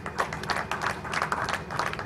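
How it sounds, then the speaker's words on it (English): An audience at a conference claps for a speaker: dense, even applause from many hands, steady and moderately loud throughout, with no voice over it. "please a round of applause for him"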